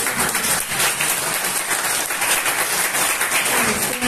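Steady applause from a church congregation during a service, dense clapping that stays loud and continuous throughout.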